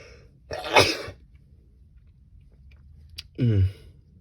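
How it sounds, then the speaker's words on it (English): Two sneezes a few seconds apart, the first a sharp burst, the second a louder, deeper explosive sneeze, close by with quiet between. "I'm gonna sneeze."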